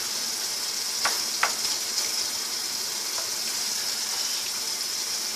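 A wooden spoon stirring stew in a pot just topped up with cold water, a soft continuous sizzle and bubbling with a couple of brief scraping knocks early on, no voices.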